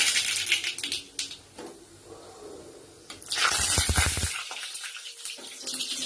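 Mustard seeds and a whole dried red chilli spluttering in hot oil, a close run of sharp crackling pops that comes in uneven bursts, with a loud flurry midway followed by quieter snaps.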